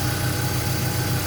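A BMW E46 engine runs steadily during a cooling-system purge, a close, continuous low rumble that holds even throughout without a clear rise in revs.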